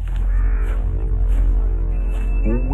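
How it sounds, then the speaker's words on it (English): A crow caws loudly and repeatedly over a steady, dense low background that fills the whole stretch. "the bird is a cunning crow"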